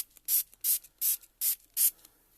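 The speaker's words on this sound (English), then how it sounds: "I'm going to get a dried marigold oxide spray." Five quick bursts from a spray bottle of dried marigold oxide ink hiss out in an even rhythm, close and crisp, with quiet gaps between them.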